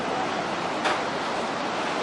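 Pacific Ocean surf near Muroto, heard from a high lookout as a steady, even wash of waves mixed with wind, without clear individual breakers.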